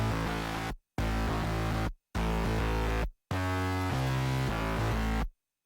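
A heavy metalcore breakdown patch from a Serum 2 synth, driven by distortion and convolution, hits in loud, thick chugging bursts separated by abrupt dead-silent gaps.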